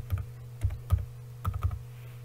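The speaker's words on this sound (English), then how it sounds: "you start typing what you want. You can type the word Uchumi." Quick bursts of typing on a computer keyboard while a logo design is entered: several clusters of keystrokes with brief pauses between them, close and fairly soft, with no talking.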